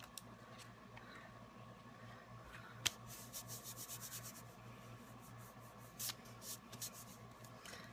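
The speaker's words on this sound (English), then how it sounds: "If I kind of take it on this scrap and just rub it around." Bleached ink rubbed around on scrap paper, soft papery scrubbing strokes with a couple of sharp scratchy bursts, close and quiet with no talk.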